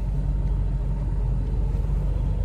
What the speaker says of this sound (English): reverse this trailer under those ones